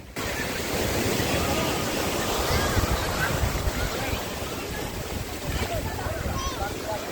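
Waves wash onto Aare Ware beach in Ratnagiri, a steady, close surf roar with gusts of wind buffeting the microphone and faint surges through the middle.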